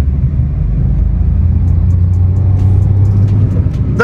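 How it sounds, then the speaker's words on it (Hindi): A 2024 Maruti Swift facelift with a three-cylinder engine pulls under throttle, giving a steady, loud engine drone with a low hum that rises slightly toward the end. "देखो थ्रॉटल रख रहे हैं"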